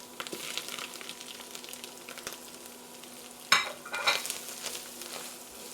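Spices and onion frying in oil, a soft steady sizzle with stirring scrapes and a couple of louder metallic clatters from a spoon against the pan, nearby and without speech.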